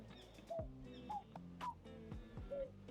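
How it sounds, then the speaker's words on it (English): Pigeons in the video game Tiny Bookshop give short, melodic cooing calls, four brief musical chirps spaced about half a second apart over soft game music. "Oh, they're kind of musical. Musical birds."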